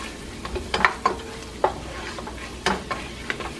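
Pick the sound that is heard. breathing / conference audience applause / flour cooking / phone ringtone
flour cooking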